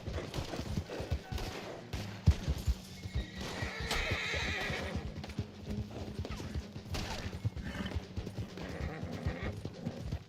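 Horse hooves clip-clopping steadily on the ground in the online Western game Red Dead Online, with a whinny around the middle and occasional distant gunfire and mechanical clatter, fairly quiet overall.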